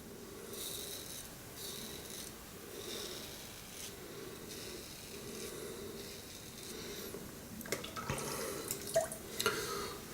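A razor shaves a lathered face with lemongrass soap, giving repeated soft scraping strokes in a steady rhythm, close and fairly quiet, with a few sharper rasps near the end.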